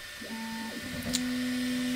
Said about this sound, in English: the printer heats up, homes, as you can see, and is loading the filament